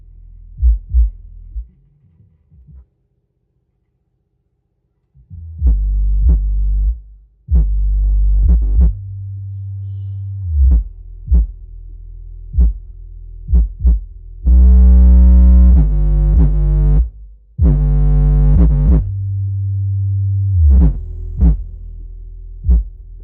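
Deep thumping bass notes from a homemade active subwoofer, loud and close, pulsing in uneven bursts with a brief dropout and moments where the recording distorts and breaks up.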